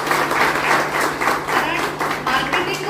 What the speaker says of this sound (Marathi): जोरात टाळ्या झाल्या